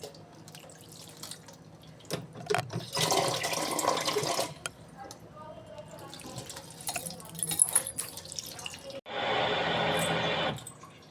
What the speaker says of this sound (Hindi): तो अब कान्हा नहा रहे हैं गरम गरम पानी से।